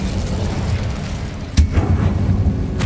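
Casting Incendio in Hogwarts Legacy sets off a sudden loud blast partway through, with a second sharp burst near the end, both over a continuous low roar of in-game ambience.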